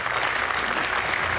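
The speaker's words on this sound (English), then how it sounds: "Please come on stage with a huge applause." Dense, continuous audience applause at a design summit in Hong Kong as speakers come on stage, loud and sustained throughout.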